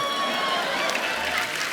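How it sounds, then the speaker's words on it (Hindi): A studio audience at a comedy TV show, the Kapil Sharma Show, breaks into applause, a broad wash of many hands clapping that stays steady and fairly loud for a short burst. "जोरदार तालियां इस दाल के लिए"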